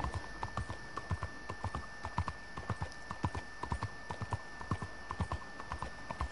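Horse hooves clip-clopping at a steady walking rhythm in Red Dead Redemption 2, a bonded horse wearing a panther saddle, the regular hoofbeats close and clear over a faint steady background tone.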